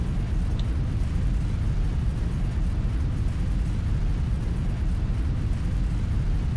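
Flamer weapons firing in the MechWarrior Online game, a dense, steady roaring rush of low rumbling noise that holds loud and unbroken throughout with no talk.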